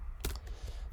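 Code typed on a computer keyboard gives a quick cluster of two or three faint, close key clicks against a quiet background.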